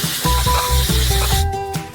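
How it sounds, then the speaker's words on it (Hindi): Liquid nitrogen at about -195 degrees hisses loudly as it is sprayed straight onto hot caramel for corn dog decorations, a close continuous rush with crackling bursts. "हम नाइट्रोजन को सीधे गर्म कैरमेल पर स्प्रे करेंगे।"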